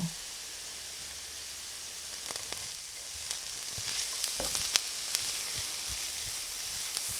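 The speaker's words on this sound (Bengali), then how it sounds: "খুন্তি দিয়ে বারে বারে নাড়াচাড়া করতে হবে" Sweet raw mango pickle cooking in a wok gives a soft, continuous sizzle as a spatula stirs it, with scattered sharp clicks and scrapes against the metal, no voices.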